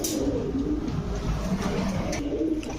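Teddy pigeons coo close by in a shop, low throaty rolling calls running continuously with a little background noise.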